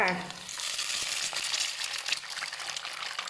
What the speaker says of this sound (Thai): ตามต่อด้วยไข่เลยนะคะ เอาไข่ลงไปก่อนค่